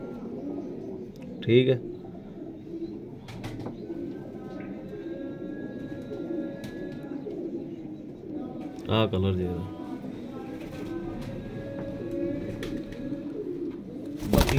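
Pigeons coo softly and repeatedly in the background while people talk, with a few brief flutters and clatters.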